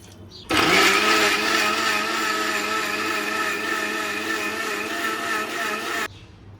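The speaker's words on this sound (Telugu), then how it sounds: "కొంచెం వాటర్ వేసి మెత్తగా మిక్సీ పట్టుకుందాం" A mixer grinder grinds mint, green chillies, garlic, ginger, onion and cashews with a little water, a loud steady high-pitched motor whine running continuously for about five and a half seconds before cutting off abruptly.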